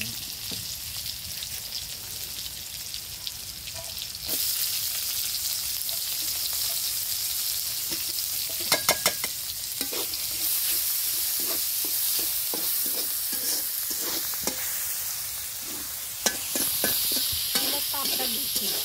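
Ginger, garlic and spice paste frying and being stirred in a hot pan over a gas flame, with a steady loud sizzle throughout and scattered scraping clicks from the stirring.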